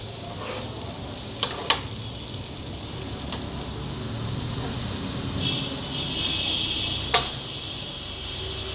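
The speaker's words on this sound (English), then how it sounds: "Ginger garlic paste, saute it nicely with the tomato and the onions." Ginger garlic paste sautéing with tomato and onions for chicken tikka masala, a soft steady sizzle in the pan broken by a few sharp clicks of a utensil against the pan.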